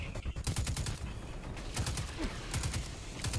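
Rapid bursts of gunfire from a Destiny 2 firefight, dense clattering shots in quick clusters at near range throughout, with no talking.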